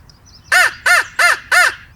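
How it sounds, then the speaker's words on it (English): A crow caws four times in a steady, evenly spaced series, loud and close, each call a harsh, nasal rasp with nothing else around it. "Crow?"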